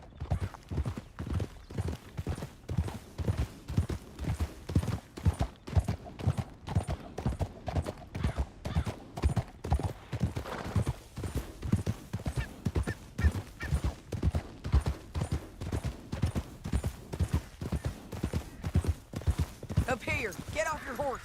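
Steady rhythmic clip-clop of horse hooves in Red Dead Redemption 2, loud and close, continuing throughout with a faint voice in the background.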